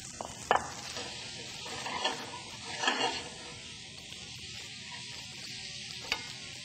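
Snow peas, carrots and green onions stir-fried in a hot pan, a steady sizzle with scraping and tossing from the utensil, including a few louder clanks and stirring bursts, and no voices.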